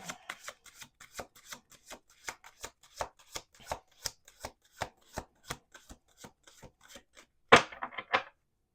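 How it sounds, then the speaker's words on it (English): Tarot cards being shuffled by hand, a steady run of crisp riffling flicks at an even quick rhythm, close and soft, ending in a louder final burst. "1 more shuffle."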